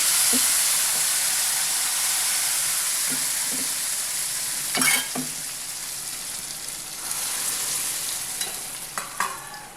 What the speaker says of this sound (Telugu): ఇప్పుడు ఇందులోకి పప్పు మొత్తం వేసుకొని